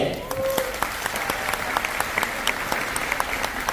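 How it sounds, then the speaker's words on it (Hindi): An audience at a network marketing business event claps steadily in a dense wash of applause, loud and continuous throughout, with some voices mixed into the crowd noise. "एक बार लहराते हुए जबरदस्त ताली"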